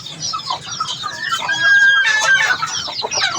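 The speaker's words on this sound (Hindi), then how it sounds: "मुर्गियाँ चीखने लगी हुई है।" Several chickens cluck and squawk loudly and close by, with shrill rising cries overlapping in a busy, continuous chorus.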